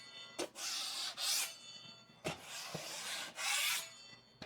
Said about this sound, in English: this is regular drywall compound. It's not hot compound, and this is going to scrape off a lot easier